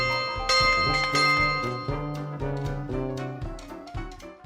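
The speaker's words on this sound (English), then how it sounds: "the warden shall ring the bell" A market bell at London's Borough Market rings repeatedly with bright, resonant tones, each strike overlapping the fading ring of the last.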